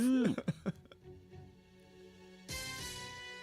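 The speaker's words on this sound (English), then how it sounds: "My goofy sound is a cough." A short burst of coughing near the start, a few sharp harsh bursts, followed by a quiet stretch and then a swell of brassy synth music.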